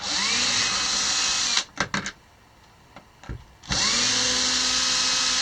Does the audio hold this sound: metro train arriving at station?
no